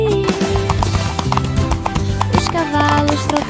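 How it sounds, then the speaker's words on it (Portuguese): Horses on a farm trot side by side in a children's song, their steady clip-clopping hooves mixed close with bouncy music and a sung voice. "os cavalos trotavam lado a lado."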